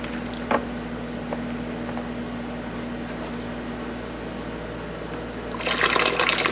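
Homemade soy milk draining in a kitchen sink, a steady close trickle and wash of liquid that swells louder near the end.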